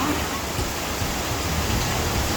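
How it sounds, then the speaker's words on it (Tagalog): Heavy rain pours in a dense, steady hiss that fills the whole scene evenly and close by, with no pauses. "napakalakas ng ulan"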